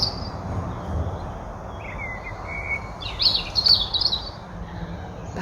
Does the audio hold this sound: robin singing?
yes